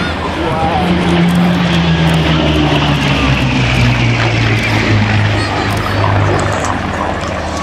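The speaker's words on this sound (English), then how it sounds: "so we can listen to this fantastic engine" A Hawker Hurricane's powerful piston engine roars steadily overhead at an air festival, a deep, throbbing drone with a slowly shifting pitch, loud and close.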